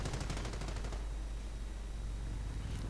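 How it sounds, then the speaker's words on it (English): Rapid automatic gunfire from a rifleman riding a motorbike in a strategy war game, a dense burst of shots up front that thins into a steady rumbling battle din. "rifleman firing away on the bike"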